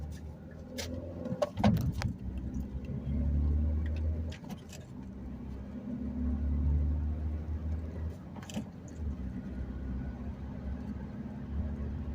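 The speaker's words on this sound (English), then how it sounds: "I can shift into second gear and make this turn" A manual-transmission car takes a turn in second gear, heard from inside as a low, steady engine hum that swells and eases, with a few faint clicks and rattles in the cabin.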